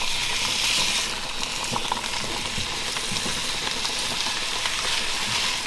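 Salmon fries in a pan for a salmon, dill and courgette linguine, a loud, dense sizzle that holds steady throughout with faint crackles and scraping.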